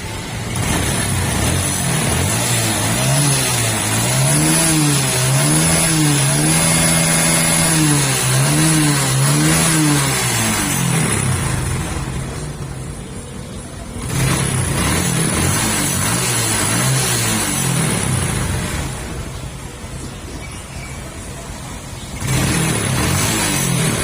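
A Honda XRM125 motorcycle engine runs close by after starting, revving in repeated rising-and-falling swells before settling, then blipping again in short bursts with quieter idle gaps between.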